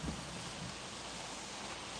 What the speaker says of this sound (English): It's actually raining a little harder than it was a few minutes ago.